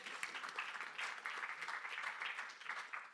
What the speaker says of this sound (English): I'll take that one person clapping at the back